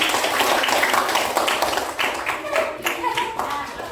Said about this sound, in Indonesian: kasih tepuk tangan untuk kalian